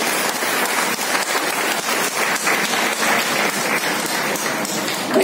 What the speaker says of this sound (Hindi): ताली होनी चाहिए इन लोगों के लिए।